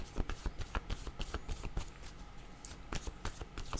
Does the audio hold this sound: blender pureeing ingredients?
no